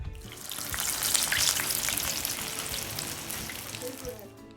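Medu vada, urad dal fritters, sizzle and crackle in hot oil with a steady, loud frying hiss throughout, close by and without talk.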